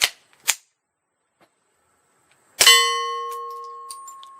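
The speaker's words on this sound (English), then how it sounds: "We got a bunch of steel targets out here. Some of these make some real good dingers." Remington subsonic 22LR rounds at an outdoor range: two sharp shots, then a bright metallic ding from a steel target that rings on with a clear sustained tone and fades out.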